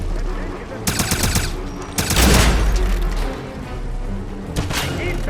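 Bursts of rapid automatic gunfire and booming shots from the video game Wolfenstein (2009), loud and repeated across the scene in several clusters over a steady low rumble of ambient noise.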